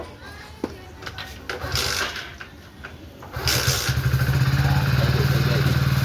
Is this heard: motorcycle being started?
yes